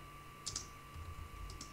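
A few light, quick clicks come from typing on a computer keyboard, heard as two short pairs of keystrokes over a faint electrical hum in a quiet room.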